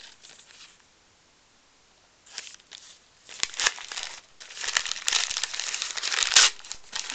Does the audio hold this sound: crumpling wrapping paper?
yes